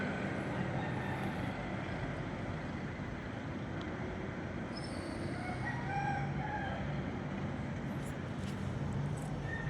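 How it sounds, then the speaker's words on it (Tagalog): A rooster crows in the distance over a steady wash of broadband noise, like surf or wind, faint and somewhat masked. "Tumitilao kang manok."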